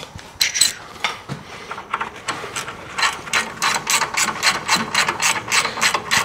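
A ratchet wrench clicks during a classic GM drum brake job, starting with a few sparse ratcheting bursts and then settling into a busier run of close, sharp clicking strokes.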